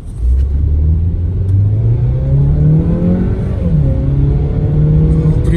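A Skoda Octavia A8 accelerating hard from a standstill to 100 km/h, heard from inside the cabin: a loud, steady engine drone rising in pitch through the gears, with brief dips at the shifts and constant road rumble underneath.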